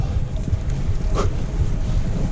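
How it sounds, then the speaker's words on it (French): Wind rushes steadily past the microphone on a bike ride through a sheltered river gorge in the Drôme Provençale, a constant low buffeting roar with no pauses. "Là, le vent n'est plus favorable."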